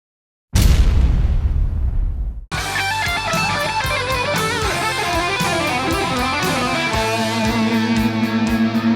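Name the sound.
electric guitar lick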